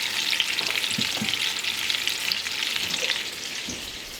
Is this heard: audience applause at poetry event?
no